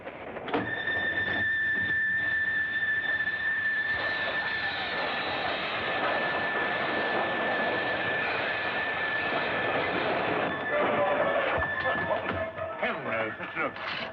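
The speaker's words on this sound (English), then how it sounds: "train trip." A steam train running on the rails on a night journey, heard as a loud, continuous rumble with a steady high metallic squeal that lasts throughout.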